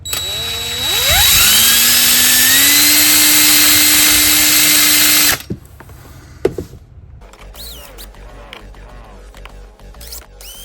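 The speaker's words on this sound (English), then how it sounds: "Drilled the hole for there." A power drill spins up and bores a hole in timber with a loud, steady high whine, runs for several seconds, then cuts off, followed by a few clunks and quieter handling noises.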